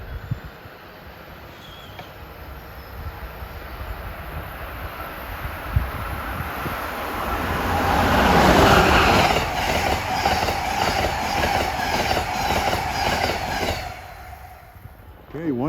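Amtrak train 171 from Boston to Roanoke passes through Princeton Junction station. A rising roar swells as it nears, rapid clickety-clack of wheels follows as the cars rush past, and then it fades, with wind buffeting the microphone.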